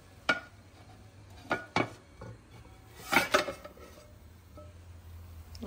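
Metal pans clatter as börek is flipped from a frying pan onto a serving pan, giving a few sharp clanks and scrapes spread across the moment, with quieter handling noise in between.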